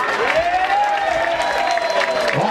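An audience claps at a public participation meeting in Makueni during a visit by the Health Cabinet Secretary. The applause is steady and dense throughout, with a faint whistle-like tone gliding over it.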